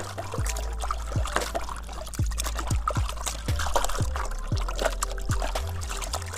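Water pours and splashes in a bowl while chicken pieces are rinsed, with irregular sloshes and drips over a steady low hum.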